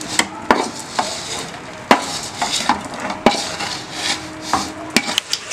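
Spice masala being stirred into hot oil with asafoetida for homemade mango pickle, giving close, irregular scraping and clinking taps of a utensil against the pot, with no talk.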